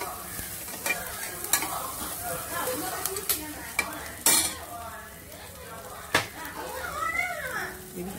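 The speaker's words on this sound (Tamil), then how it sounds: "கருவேப்பிலை போட்டு சேர்த்து வதக்கிறோம்" Curry leaves sauté in a pan for kothaverangai soup, with a steady sizzle of frying under repeated scrapes and clinks of a spoon stirring against the metal.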